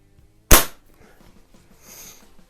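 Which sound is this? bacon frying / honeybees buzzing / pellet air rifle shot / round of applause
pellet air rifle shot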